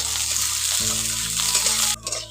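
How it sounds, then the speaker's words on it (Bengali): Chopped onion frying in oil makes a loud, continuous sizzle with a stirring scrape partway through, then drops off briefly at the end. "ওই তেলের মধ্যে দিয়ে দিচ্ছি পেঁয়াজ কুচি পেঁয়াজটাকে একটু ভালো করে ভেজে নিচ্ছি"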